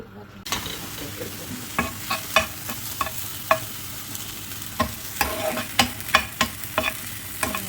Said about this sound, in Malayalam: അപ്പോഴത്തേക്ക് നമുക്ക് ആ ചെമ്മീൻ വെക്കാം ചെമ്മീൻ വറുത്തിട്ടിടാം